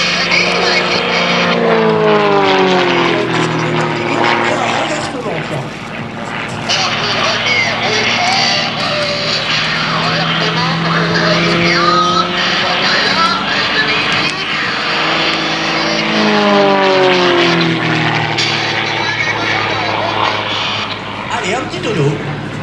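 A Patrouille de France aircraft rolls overhead at an air festival marking the team's 70th anniversary, its engine roar a steady, broad wash heard throughout beneath continuous close talk.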